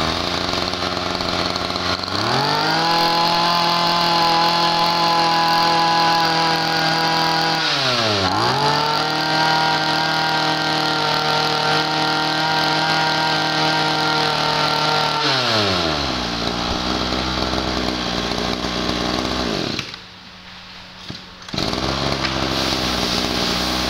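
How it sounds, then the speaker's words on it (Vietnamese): A Honda-type two-stroke brush cutter, an Estin S1 grass trimmer, runs loud and close, its engine note rising and dipping through several throttle changes with a brief drop near the end. "S1 là con máy cắt cỏ Estin, con này là cái dạng Honda 2 thì nha anh em."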